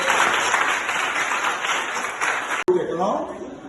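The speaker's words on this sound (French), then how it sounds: "Applaudissez, s'il vous plaît." Applause at a school library launch in Dumay, a dense steady wash of clapping from a crowd that cuts off abruptly near the end, then resumes more faintly with a voice speaking underneath.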